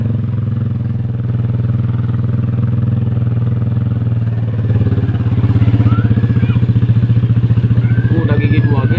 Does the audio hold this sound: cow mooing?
no